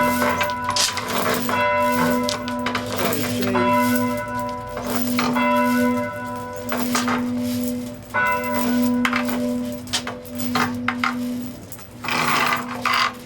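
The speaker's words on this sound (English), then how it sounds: "Center bell still has to be rang by hand." Church bells, the centre one rung by hand, ring in a steady repeating pattern, their resonant tones hanging and overlapping, over a grinding, creaking mechanical rasp. A voice briefly speaks.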